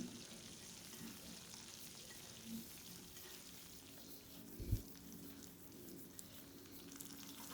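Quiet, continuous sizzle of chopped tomato sautéing in a pan, with a soft thud partway through and faint clicks near the end.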